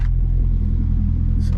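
C6 Corvette engine with a brief rev, a loud, close low rumble lasting just over a second.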